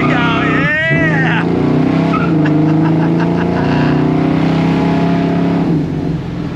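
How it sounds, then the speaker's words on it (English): A 1969 Camaro SS V8 roars loud and close under hard throttle, its pitch climbing steadily as it accelerates, with a brief whoop early on. "Love that V8 sound."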